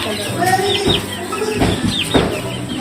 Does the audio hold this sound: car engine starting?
no